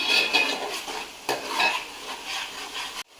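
A spoon stirs fish curry in a pot, scraping and clinking against the metal in uneven strokes over a soft simmering sizzle, heard close with no talk.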